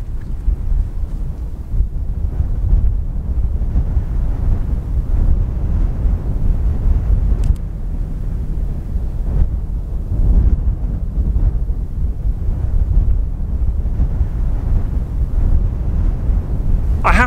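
Strong wind on a hillside buffets a microphone, producing a continuous loud low rumble with gusting swells that lasts throughout, with no talk on top.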